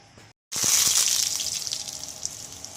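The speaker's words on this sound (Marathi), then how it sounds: "पाणी उसळले बघा भावनो" After a brief silence, water bursts up in a sudden loud gush, splashing hard at first and then settling into a steady, bubbling rush.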